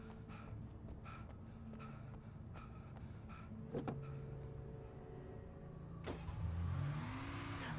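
A car in Alan Wake Remastered, with a steady engine hum, several short clicks and clunks, then a rising revving surge near the end as the car accelerates away, fairly quiet overall.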